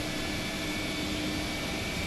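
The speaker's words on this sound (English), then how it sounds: "So let's start up engine 2." Steady broadband roar of a PMDG Boeing 777 engine spooling up during start in Microsoft Flight Simulator 2024, a continuous whine with a thin high tone throughout, heard alone.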